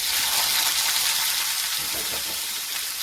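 Bitter gourd frying in a pan with a little salt and turmeric, giving a loud, steady bright sizzle that runs throughout without pause or talking.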